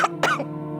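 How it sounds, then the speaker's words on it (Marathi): A woman gives two short coughs close by, quick sharp bursts followed by a lingering tonal background. "काय ग, तुला खोकला झालाय?"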